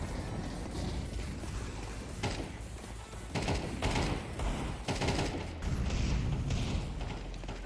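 Gunfire in the Counter-Strike 2 video game, dense bursts of rapid shots and mechanical clatter running continuously and loud throughout.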